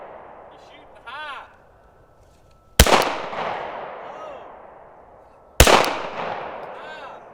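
Two sharp, loud Sig Sauer P365 pistol shots crack a few seconds apart outdoors, each trailing off into a long echo, with a voice talking faintly before them.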